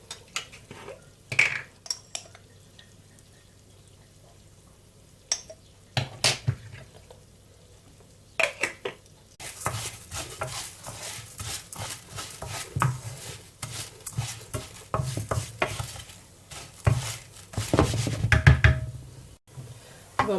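Rice being stirred and toasted in oil in a pot, heard as scattered clinks and scrapes of a utensil against metal, sparse at first and then a busier run of knocking, scraping strokes.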